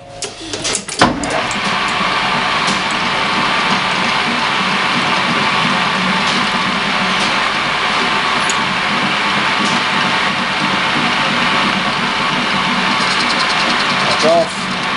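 Metal lathe running a facing cut on a collet block, a steady continuous machining whir and hum that holds at an even level throughout, with a sharp clunk near the start.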